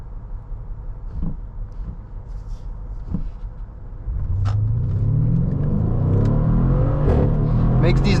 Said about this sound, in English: Makes these nice pops every time it shifts.